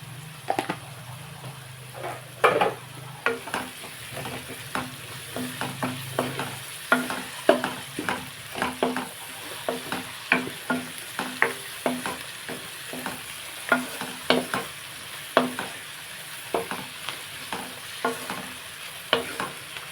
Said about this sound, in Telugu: బాగా ఉల్లిపాయ ఫ్రై అయ్యాక